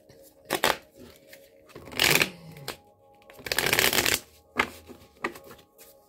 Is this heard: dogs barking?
no